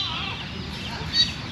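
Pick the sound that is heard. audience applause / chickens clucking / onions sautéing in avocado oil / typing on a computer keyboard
chickens clucking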